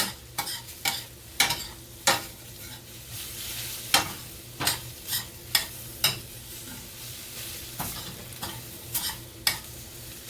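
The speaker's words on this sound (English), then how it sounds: "Mix it in there." Bacon stirred into a frying omelette in a pan, a steady sizzle broken by repeated sharp scraping strokes of a utensil at an irregular rhythm, close and fairly quiet.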